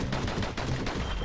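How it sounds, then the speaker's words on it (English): Pistol fire in the video game Bastion, a quick rapid string of sharp shots close together, dense and fairly loud over about a second, with no voices. "Those pistols could spit out rounds just as quick as you could pull the trigger."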